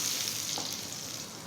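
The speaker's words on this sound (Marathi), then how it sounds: "चटणीवर ओतायची ही फोडणी।" Hot tempering of cumin, curry leaves and white urad dal poured over chutney for dal vada, giving a steady, close, broadband sizzle that holds for the whole moment with no voices.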